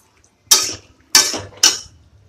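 Thankuni leaf paste stir-fried in a pan: a spatula clinks sharply against the metal three times, each scrape trailing off briefly, close and isolated with no talking.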